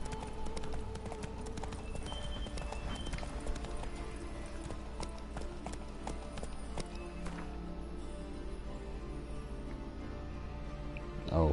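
Roach the horse gallops in The Witcher 3: Blood and Wine, a fast, even drumming of hooves over game ambience, moderately loud and sustained, with a brief snort or whinny.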